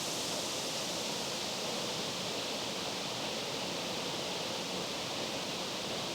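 Low-flow waterfall on Roaring Creek, a steady, dense wash of falling water that stays even and constant throughout, fairly close with no voices.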